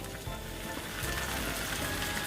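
Orange juice sizzles in a frying pan over finely chopped softened onion, a steady close hiss and crackle with no talk.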